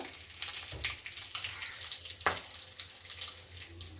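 Whole garam masala, cumin seeds and a bay leaf temper in hot oil in a kadai, producing a moderate crackling sizzle with scattered pops and light clinks, no speech.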